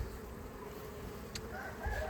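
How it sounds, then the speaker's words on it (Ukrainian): A dense, steady hum of a large mass of honeybees around a seven-frame hive at an apiary during swarming season, a continuous close drone with no voices. "бджоли тут море"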